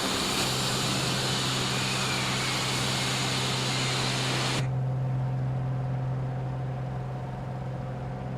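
Aircraft in Microsoft Flight Simulator 2020 on a group flight touring Iceland, a steady loud broadband engine drone with a constant low hum, which suddenly drops to a duller, quieter tone partway through.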